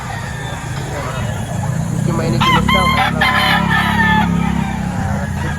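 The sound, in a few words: chickens and roosters at a livestock auction market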